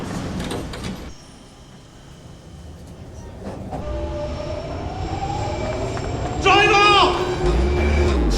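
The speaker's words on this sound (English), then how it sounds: "Howard, get on the train!" Underground train running, with rumbling wheels, sliding doors and squealing rails, close and steady throughout under shouting voices.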